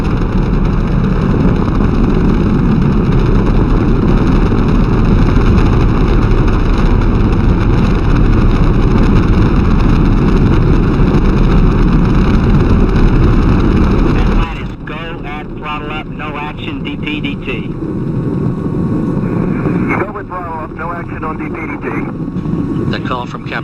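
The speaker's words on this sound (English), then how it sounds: "Engines now revving up, standing by for the throttle up call." Space Shuttle Atlantis main engines during the STS-135 launch, a steady loud broadband roar for most of the span, then a thinner rumble heard beneath radio commentary.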